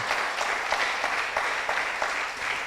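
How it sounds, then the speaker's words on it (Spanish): Church congregation applauding steadily, a dense continuous clapping that stays even and fairly loud throughout with no voices over it. "si ese aplauso es para el Señor, dele fuerte ese aplauso"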